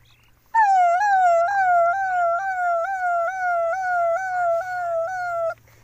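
A voice mimics an ambulance siren, a loud close wailing tone that swoops up and drops back in a steady repeating cycle for about five seconds, starting abruptly and cutting off cleanly.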